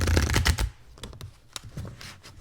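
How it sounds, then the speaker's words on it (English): A Mantegna Tarot deck is shuffled by hand, starting with a dense, loud riffle of cards that gives way to scattered soft card slides and taps. "The one in my hands to shuffle is,"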